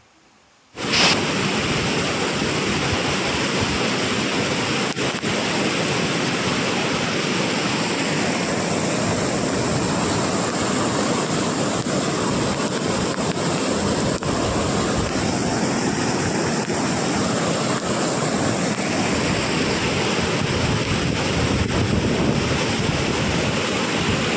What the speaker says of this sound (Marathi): ग्रामीण भागातील अनेक ओढ्या नाल्यांना सध्या पुराचे स्वरूप असल्याचे दिसत आहे